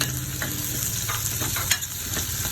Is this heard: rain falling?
no